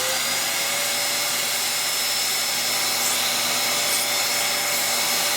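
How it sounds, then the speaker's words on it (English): A household vacuum cleaner runs steadily and loudly throughout, a continuous broadband whoosh and motor whine with no talk over it. "it'll help if you plug in the vacuum"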